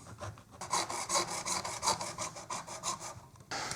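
A small hacksaw rasps back and forth through hard material in a steady run of about a dozen close strokes, with a short pause before the sawing resumes at the end.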